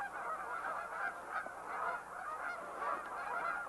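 A goose at Horicon honks repeatedly while it is handled for banding and fitting with a plastic neck collar. The calls are a series of nasal, moderately close honks in an uneven rhythm, with no talking.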